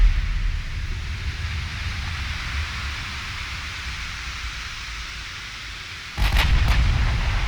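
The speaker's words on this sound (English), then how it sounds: "Taking a lot of fire." Naval artillery fire in the warship game Ultimate Admiral Dreadnoughts, a low, heavy rumble of distant battle that swells into a sharper, louder boom near the end, with no talking.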